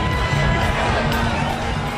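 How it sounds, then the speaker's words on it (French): A jubilant crowd in Haiti cheers and shouts as President Martelly walks from the airport to the National Palace, a dense, loud roar of many voices sustained without a break. "le président Martelly, au milieu d'une foule en liesse, a défilé à pied de l'aéroport jusqu'au Palais national"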